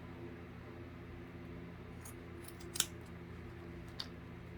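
Craft material being cut with scissors for a gnome's arm, a few faint snips over a steady low hum, one sharper snip standing out.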